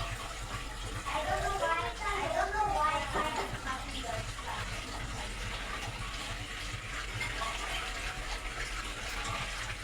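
Water gushes steadily from a faucet on a newly installed pressurized water system, a continuous splashing flow that runs throughout, strongest early on, with voices talking over it.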